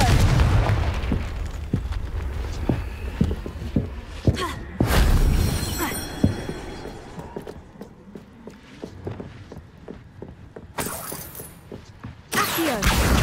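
Confringo blasting curse explosions in the Hogwarts Legacy video game: several loud, sharp blasts with debris crackle and rumbling tails, separated by quieter stretches with scattered impacts, and a voice speaking between them.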